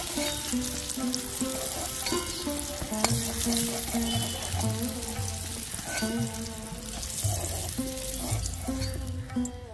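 Potatoes frying in oil in a pan, a steady close sizzle with occasional stirring scrapes, loud and continuous throughout.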